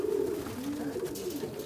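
Pigeons coo close by, a soft, low, rolling call with gentle rising and falling contours repeating over a faint background hum.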